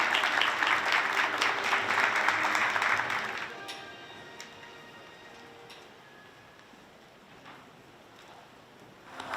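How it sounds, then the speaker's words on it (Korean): An audience in a hall claps loudly as presidential candidates enter a chamber of commerce lecture, the applause holding for a few seconds, then fading to quiet room tone with scattered faint noises. "큰 박수로 청해 주시기 바랍니다"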